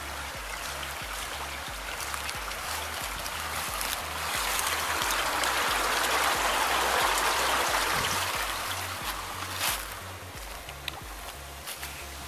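Water overflowing from a water tower, a continuous rushing stream-like splash that swells in the middle and then eases, with scattered drips and a few sharper splashes nearby, no talk.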